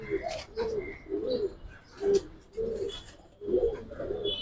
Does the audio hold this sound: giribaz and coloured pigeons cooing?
yes